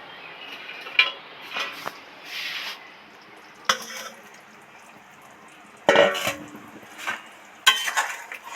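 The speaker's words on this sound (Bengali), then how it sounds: "এবার ভাজা মাছটা ঝোলের মধ্যে দিয়ে দেব" Fried rohu fish pieces going into a simmering okra curry in a pot, with a few separate clinks, scrapes and soft splashes of utensil against metal, close and moderately loud, with quiet gaps between.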